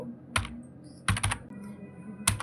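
Computer keyboard keys struck in sparse, crisp clicks, a single press then a quick pair and another, close up while styling an HTML page with CSS.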